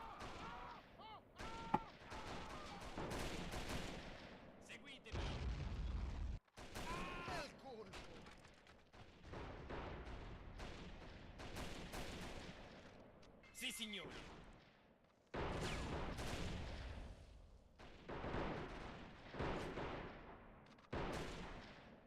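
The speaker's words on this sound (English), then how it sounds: "I'm going to try to call in an artillery strike directly on them." Artillery strikes hit on a WW1 Italian front battlefield in a video game, heavy booms and rumbling blasts arriving in bursts with gunfire and clatter between them, loud and close, with a voice talking over parts of it.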